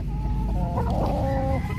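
A small rooster raised on a backyard poultry farm clucks and crows, loud and close, with a steady low background rumble throughout.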